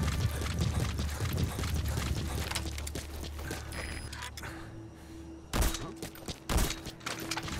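Bursts of rapid gunfire crackle over a rumbling engine-like background in the video game Metal Gear Solid V: The Phantom Pain, with a couple of sharp loud shots near the end.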